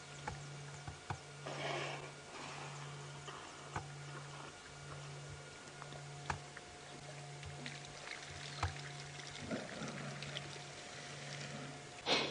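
A wild animal drinks at the water's edge on an evening safari drive, making faint, scattered slurps and splashy sucking sounds over a low steady hum.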